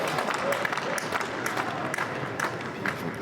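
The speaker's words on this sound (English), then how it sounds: "People just deciding to sing in the rain." Tennis crowd at Roland-Garros singing together in the rain, a dense, continuous wash of massed voices and scattered claps filling the stadium, steady and moderately loud throughout.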